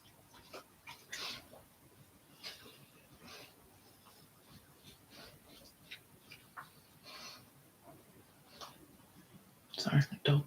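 Pet dogs at home making small sounds in the background during a chatty livestream, faint scattered whimpers and panting with a louder burst of noise near the end, under soft talk.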